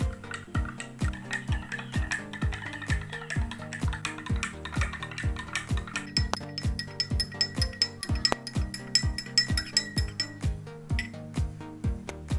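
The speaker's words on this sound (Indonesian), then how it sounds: "Lalu aduk garam yang ada di dalam gelas." A spoon clinks steadily against a glass in a quick, even rhythm, stirring salt into water continuously and close up.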